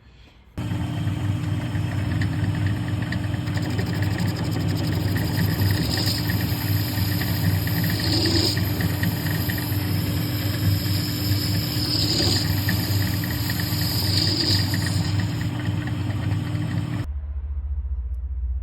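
A metal lathe turns a part for a homemade drum sander barrel mandrel, giving a steady, loud mechanical hum with droning tones that runs continuously for about sixteen seconds and then cuts off abruptly.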